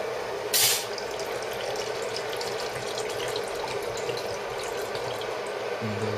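Cold tap water runs steadily into a pot, a constant close rushing pour with a brief splashy burst near the start, lasting several seconds without speech.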